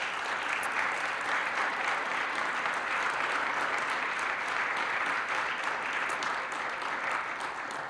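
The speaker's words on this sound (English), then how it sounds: "I just really want to just sort of applaud your efforts" A ceremony audience applauds at a county arts and culture grants event, a steady wash of many hands clapping from a moderate distance, holding even for about eight seconds.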